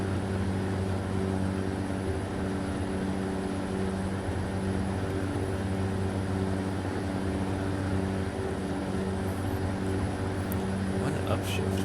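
Heavy truck engine droning steadily on the Dalton Highway, its RPM wavering between ranges as strong harmonic tones hold throughout, with voices talking over the continuous cab rumble.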